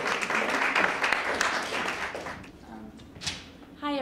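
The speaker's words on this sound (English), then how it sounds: "Let's give her a big round of applause." Sustained audience applause fills a coffeehouse performance space, dense clapping at a steady level that thins out and fades toward the end.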